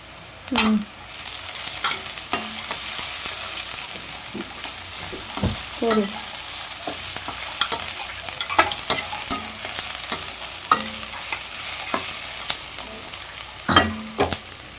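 Freshly ground ginger garlic paste fries with a bright, loud sizzle in a pan, broken by repeated scraping and knocking strokes as it is stirred, with no voices.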